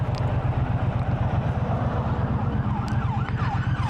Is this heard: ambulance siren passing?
yes